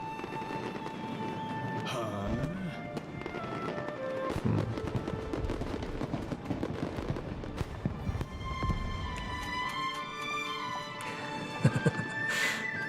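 Fireworks in the video game Genshin Impact, a string of bangs and crackles over game music and effects, with a person talking over parts of it.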